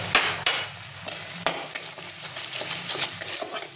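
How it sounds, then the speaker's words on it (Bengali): Spice paste with salt, turmeric and whole green chillies frying in oil released by fish in a pan, with a steady sizzle, a few sharp utensil knocks and scrapes as it is stirred. "এবার মশলাটা আমি কষিয়ে নেব"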